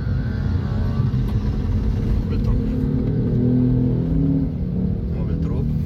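Trucks and heavy dump trucks driving along a damaged road, a loud continuous low engine rumble and rolling drone that holds for several seconds.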